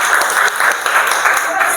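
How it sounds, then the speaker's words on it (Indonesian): Classroom applause from students, brisk, fairly close and loud group clapping with a quick pulsing rhythm, lasting under two seconds. "Tepuk tangan."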